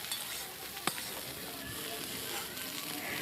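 Mixed vegetables with eggplant sizzle and fry steadily in a pan for a winter vegetarian curry, a continuous close crackling hiss with one brief sharp clink partway through and occasional stirring scrapes.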